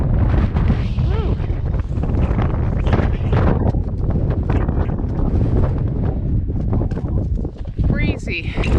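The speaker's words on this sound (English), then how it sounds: "Breezy." Strong wind buffets the microphone on a mountain summit, a loud continuous roar of gusts close up, with brief voices over it near the end.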